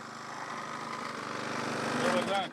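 A lawn mower runs steadily close by, a continuous engine drone that builds slightly and wavers near the end.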